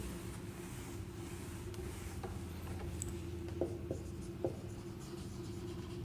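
Chalk or marker writing out a definition on a board during a ring theory lecture: soft continuous scratching strokes with a few sharper taps, close, over a steady low room hum.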